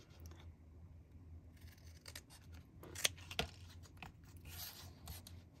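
Scissors snipping paper to cut out small gift tags, a few quiet crisp cuts with two sharper snips standing out over a soft background hum.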